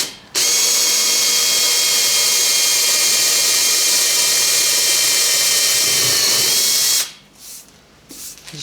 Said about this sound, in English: Start to drill these 8mm holes through the aluminium skin on the other side and then countersink those for the screws